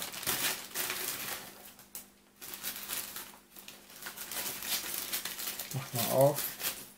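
Plastic shipping bags from a retail order crinkle and rustle in bursts as they are handled and opened close by, mixed with a person talking.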